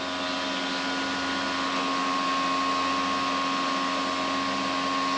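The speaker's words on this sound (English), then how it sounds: "The welder is going, everything." A welder runs during a sailing yacht's hull section repair, giving a steady, loud broadband hiss with a constant electrical hum, unbroken and alone for the whole stretch.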